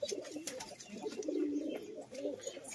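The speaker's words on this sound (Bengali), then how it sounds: "এই যে লোটন পায়রার ডাক দেখুন বন্ধুরা" Lotan pigeons cooing in a pigeon loft, a soft, low rolling coo repeating in bursts over about three seconds, fairly close with faint background noise.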